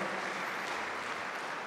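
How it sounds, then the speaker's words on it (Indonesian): Steady applause from a conference audience at an opening ceremony for the NTB delegation, an even wash of many hands clapping at a distance, faint and unbroken. "Mbak Yayu, tepuk tangan buat NTB, kita kasih supportnya"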